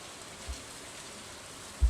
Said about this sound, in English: since it's a rainy day